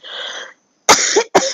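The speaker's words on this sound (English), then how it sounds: "excuse my cough." A person coughs indoors: a rough throat sound, then a brief pause, then two sharp, loud, close coughs in quick succession.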